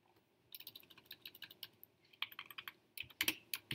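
Quick, uneven bursts of clacking keystrokes on a computer keyboard, close and fairly quiet, with brief pauses between runs and a denser flurry near the end.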